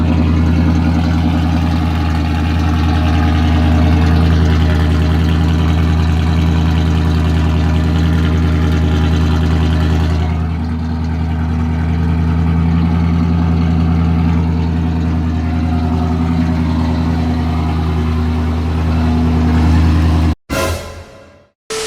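A 1995 Ford F-150 engine idles steadily and loudly up close, its deep low rumble holding level for about twenty seconds before cutting off abruptly near the end.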